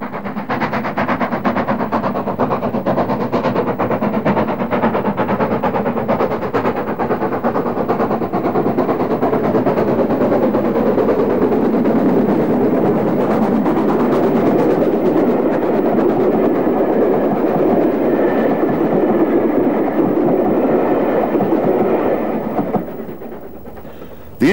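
Ex-LNER steam locomotive in its final British Railways guise as number 62660, running on a preserved railway with a steady, continuous roar of exhaust and rapid rhythmic beats, loud and close throughout before fading abruptly at the end.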